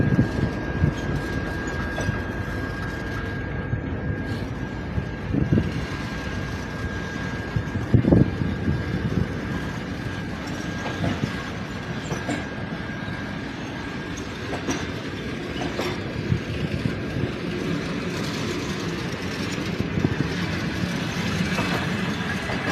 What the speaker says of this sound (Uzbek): Va poyezd ketishni boshladi.